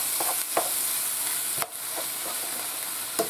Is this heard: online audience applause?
no